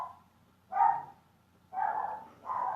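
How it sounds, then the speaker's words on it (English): A dog barks indoors in three separate bursts, each a drawn-out, moderately loud bark spaced about a second apart, with no talk over them. "I love that dog, but we've got to transcend the barking."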